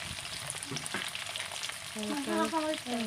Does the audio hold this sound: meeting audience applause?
no